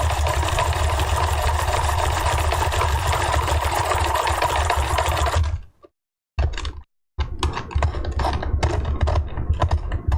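Rotating wheel of a wooden UGEARS hurdy gurdy kit held against a chisel, giving a dense, continuous grinding rasp that breaks off briefly, stutters, then resumes with a choppy scraping texture, close and with no speech.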